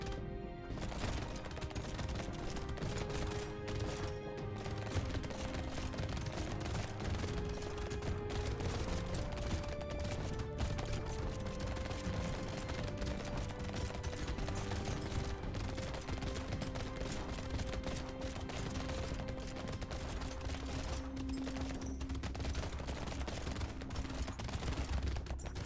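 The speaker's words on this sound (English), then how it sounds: "And red shotgun never disappoints." Rapid, dense shotgun fire from the red shotgun in the game Brotato crackles continuously throughout, mixed under steady in-game music with a constant loud level.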